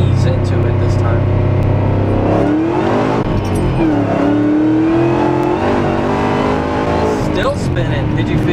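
A Ford Shelby GT500 accelerates hard with its wheels spinning, the engine roaring loudly up through the revs with a rising, then falling whine, up close and continuous, while people talk over it.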